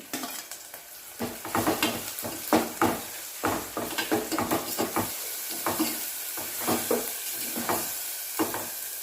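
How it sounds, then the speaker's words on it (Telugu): Turmeric and ginger-garlic paste frying in a pan as it is stirred, with rhythmic scraping strokes over a continuous close sizzle and occasional light utensil knocks. "ఇప్పుడు ఇందులో పసుపు అల్లం వెల్లుల్లి పేస్ట్ వేసుకొని కలుపుకోవాలి"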